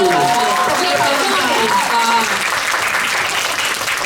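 Steady applause from a crowd of press members fills the whole stretch, dense and even, with voices faintly mixed in.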